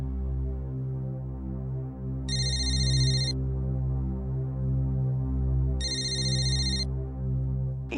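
A telephone rings indoors in two evenly spaced bursts over a steady low hum, with no talking.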